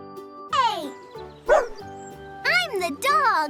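A toy dog yaps several bright, close barks over a light musical backing, with a short spoken line mixed in between the barks.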